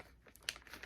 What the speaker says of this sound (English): you're going to place this in the bag